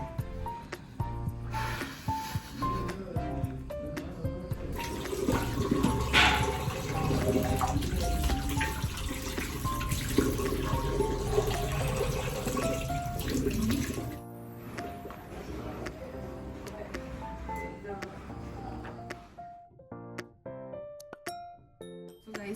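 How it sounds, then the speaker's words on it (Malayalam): Water runs steadily while shampoo is washed out of hair at home during a mocha brown hair colouring, a continuous splashing stream partly masked by music and dying away near the end. "ആദ്യം നമ്മൾ ഷാമ്പൂ ഇട്ട് വാഷ് ചെയ്യണം"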